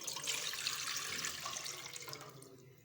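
Two glasses of water pour into a cooking pot on a lit stove, a close, fairly loud splashing gush that tapers off near the end.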